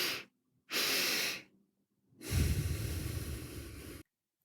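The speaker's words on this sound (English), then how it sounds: "Another powerful breathing technique is what's known as the physiological sigh, where you inhale twice before exhaling." A physiological sigh: two sharp nasal inhales in quick succession, then one long, steady exhale through the mouth, close and clear against silence.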